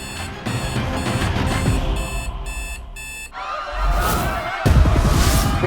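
A beeping alarm sounds in rapid repeated pulses, then turns into a loud, wavering electronic siren that keeps going; no talking is heard.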